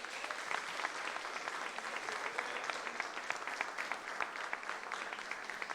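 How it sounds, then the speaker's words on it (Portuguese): A church congregation at a Portuguese-language worship service applauds in a dense, continuous patter of many hands, heard at a distance and fairly soft. "Vamos aplaudir o Senhor?"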